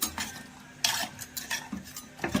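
Several light metallic clinks and scrapes of a metal bowl of water set up for steaming, scattered irregularly and fairly close, with no talking.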